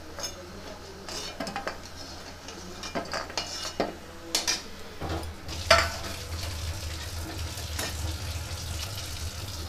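Besan gatte fry in hot oil in a pan, giving a steady sizzle and crackle with scattered scraping and clinks of a spoon against the metal.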